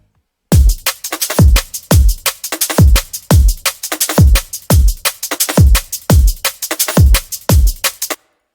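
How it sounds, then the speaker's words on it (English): Liquid drum and bass drum loop, punchy kicks and crisp snares and hats hitting in a fast, steady rhythm, loud and dry with nothing else playing. "The first drum loop, it sounds like this."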